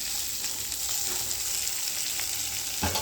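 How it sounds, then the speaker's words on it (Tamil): Green chillies, curry leaves and tomato sautéing in a pan for mushroom biryani, a steady close sizzle and crackle with a brief louder burst near the end. "பச்சை மிளகாய் கருவேப்பிலை எல்லாத்தையும் இதில் போட்டு வதக்குவோம்"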